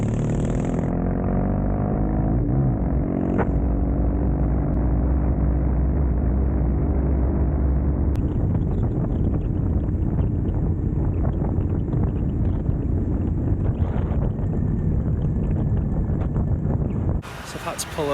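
Motorcycle ridden along a scenic Yorkshire road toward the beach, steady engine drone under heavy, constant wind buffeting on the microphone, loud and close throughout.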